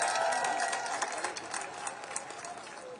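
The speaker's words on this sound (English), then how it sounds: "Let's clap them up." A crowd claps for civil rights leaders just introduced at a march in Washington, DC, a steady outdoor patter of many hands, fairly loud and continuous, fading slightly toward the end.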